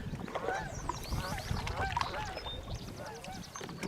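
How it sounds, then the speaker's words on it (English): A big family of geese honks repeatedly along a river, a busy overlapping chorus of calls heard from a moving boat, fairly faint under wind and water noise. "Big family of geese."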